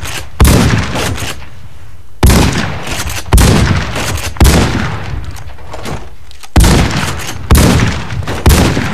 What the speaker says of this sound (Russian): Винтовка с глушаком